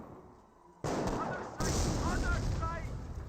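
In a Company of Heroes battle, a mortar or rifle grenade fires and booms, and a second loud blast follows, both heavy and close over rumbling battle noise.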